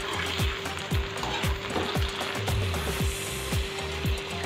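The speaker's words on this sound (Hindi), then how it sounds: "तो लीजिए, बैंगन को भी हमने 2 से 3 मिनट लगातार फ्राई कर लिया है।" Eggplant pieces frying in hot oil, a dense steady sizzle with regular spatula scrapes repeating about once a second, close and alone.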